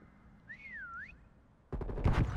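Prop hunt video game whistle: a single rising-falling tonal whistle lasting about half a second, followed after a pause by a loud burst of dense crackling, gunfire-like noise.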